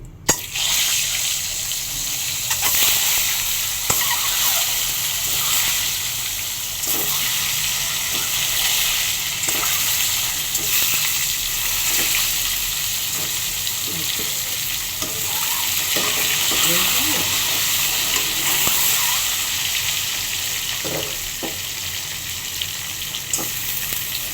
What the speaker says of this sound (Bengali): একটু হলুদ দিব ডিমগুলো ছেড়ে দেবো